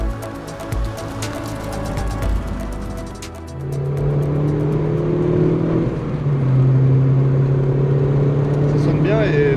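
An Opel Corsa B GSi engine revs up, rising in pitch to a strong, steady drone as it climbs, heard from inside the car while people talk over it.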